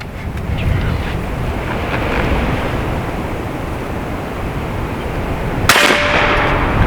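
A single sharp crack near the end is an AEA Zeus .72 caliber air rifle round striking a concrete foundation block outdoors, heard after several seconds of heavy wind buffeting the microphone.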